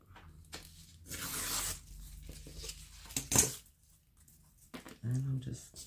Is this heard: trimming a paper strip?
yes